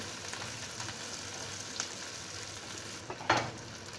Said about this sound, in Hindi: हम अब प्याज को थोड़ा भून लेते हैं, इसे ज़्यादा लाल नहीं करेंगे।